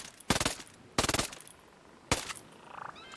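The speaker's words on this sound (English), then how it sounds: "Just shoot this Vector real quick." A Vector SMG fired in the video game Ghost Recon Breakpoint in three short, sharp, rapid bursts separated by brief pauses, crisp and close, with faint game sounds between bursts.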